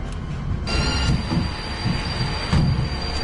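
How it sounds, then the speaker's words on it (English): Video game train brakes squealing, a sustained high metallic whine over a low rumbling roar of rolling rail cars, loud and continuous. "The train brakes, I thought it was like the classic horror movie sound"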